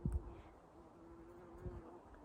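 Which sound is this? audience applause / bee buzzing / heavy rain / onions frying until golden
bee buzzing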